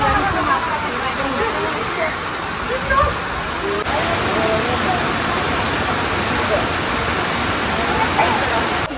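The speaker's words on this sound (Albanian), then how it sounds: "Po presim që të pushoj shiu dhe jemi këtu" Steady rain pours and patters on surfaces outdoors during a trip in Punta Cana, a dense even wash of noise throughout, with faint background voices now and then.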